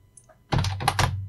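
Typing on a computer keyboard during a search for mapped military boundary stones, with a quick cluster of close, crisp key presses after a brief faint tap.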